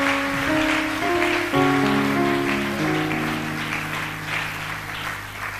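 A church congregation at a worship service claps in steady applause over sustained keyboard chords, lively and fairly loud, gradually easing off.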